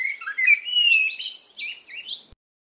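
A single bird sings a bright, warbling phrase of quick chirps and slides, close and clear, lasting about two seconds before stopping.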